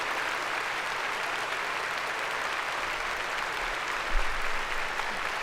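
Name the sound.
applause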